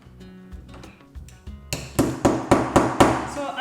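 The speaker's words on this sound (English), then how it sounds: "I'm using the back of my screwdriver just to hammer in to pierce through the opening." The butt end of a screwdriver hammered into a door rail to pierce the opening for a lock: a run of six sharp, evenly spaced metallic strikes, close and loud, after some lighter fumbling taps.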